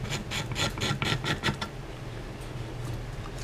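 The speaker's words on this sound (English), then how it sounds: "I'm going to scrape this down some" A wooden guitar fingerboard on an L Series Fender Mustang is scraped down with rhythmic, close, rasping strokes, about eight quick passes that then stop and give way to a quiet hiss.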